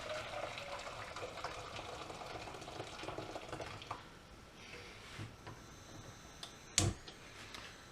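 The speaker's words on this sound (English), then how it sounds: "Whack your boiling water in." Boiling water is poured into a pan with a tiny drop of oil, a soft, steady liquid rush and splash at low level, ending with a brief clunk.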